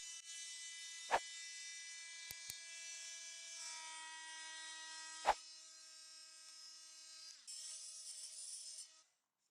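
An oscillating multi-tool cuts back an interior window sill with a steady high buzzing whine throughout, broken by a few sharp knocks and clicks, before cutting off abruptly at the end; no one speaks.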